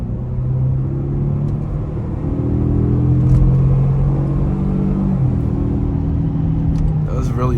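A 2025 Jaguar F-PACE R-Dynamic S accelerating in dynamic mode, heard from inside the cabin as a steady, loud engine drone. Its pitch climbs through long gears, with a shift partway through.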